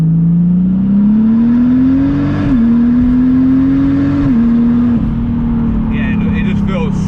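A turbocharged VW MK5 R32 with a VR6 engine accelerates hard, its loud, close engine note rising steadily through the gears with brief dips at each shift, and no talk over it.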